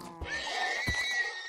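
A horse in Minecraft (Sky Factory 2.5) neighs in a single drawn-out whinny with a bright tonal cry, near and fairly loud, with a faint thump at the start.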